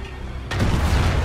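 A loud explosion in the zombie game Dying Light bursts in after a brief quieter stretch, its deep, rumbling boom swelling and lingering close and heavy to the end.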